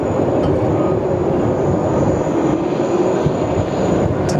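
Gulfstream G150 business jet taking off on an intersection departure at Sydney Airport, a steady, loud broadband jet roar sustained throughout with a faint high whine above it.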